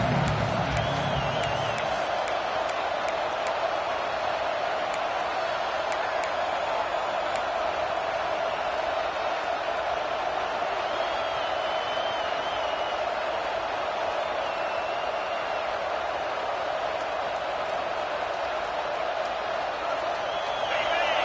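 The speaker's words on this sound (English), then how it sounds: "The Sooner fans booming, a cacophony of noise at the Palace on the Prairie on third down." Stadium crowd noise in the PS5 game Madden, a steady roar of football fans at a college stadium on a third down, sustained and loud throughout with a brief low thump at the start.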